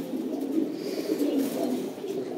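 Pakistani long-necked pigeons make a continuous low, murmuring coo close by. The sound is steady and fairly loud, with no clear breaks and no talk.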